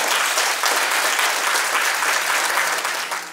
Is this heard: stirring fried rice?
no